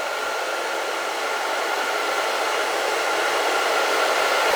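A hair dryer blows steadily and loudly throughout, drying a man's hair styled into a wavy long-on-top cut with a taper fade, a continuous broadband whoosh with no talking.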